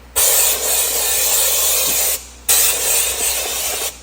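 A powder coating spray gun hisses in two long, loud bursts over a PPE rear differential cover, separated by a brief pause and set against a low background hum.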